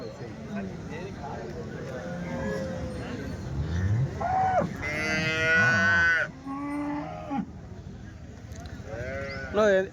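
Cows at the weekly Punganur cattle market moo several times at close range, with long, drawn-out calls rising and falling in pitch. People talk nearby throughout.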